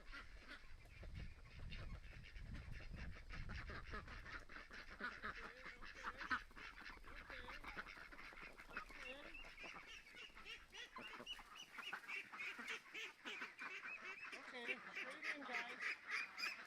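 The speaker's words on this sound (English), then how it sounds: "You're looking out, ducklings." Ducks and ducklings quack and honk in a continuous, busy chorus, mostly close and moderately loud, with some faint voices mixed in underneath.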